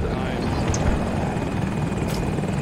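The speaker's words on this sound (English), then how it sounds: "I'm shooting a normal helicopter" A KA-520 Super Hokum attack helicopter in Battlefield 2042 drones steadily with loud, close rotor noise across the whole stretch, joined by brief higher-pitched hits and faint voices in the background.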